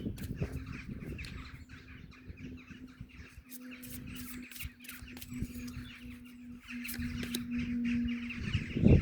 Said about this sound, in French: On dirait des mouettes. Regarde les mouettes, la mer est basse.